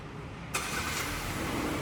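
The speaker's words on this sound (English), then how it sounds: "And engine is now turned on" A 2024 MG One 1.5 CVT Lux starts with a sudden push-button ignition burst partway through, settling into a steady, close idle hum that continues to the end.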